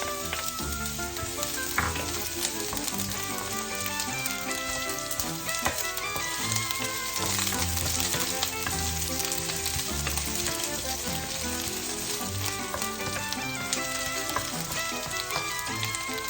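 Chopped onions dropped into hot oil for ginataang langka with crab, frying in a steady, dense crackling sizzle with occasional stirring clinks, close and continuous throughout, no one talking.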